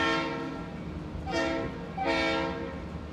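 A train horn sounds three long, rich chords close by, each swelling and fading in turn, with a steady rumble of rail movement underneath.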